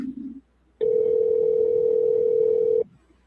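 A steady telephone line tone sounds at the start of a recorded 911 call. It holds at one loud, even pitch for about two seconds, then cuts off, with faint line noise before and after.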